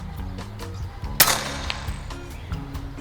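A rifle firing a 40-grain bullet that strikes a pigeon at 57 meters: one sharp, loud crack in the middle, with a faint low hum before and after.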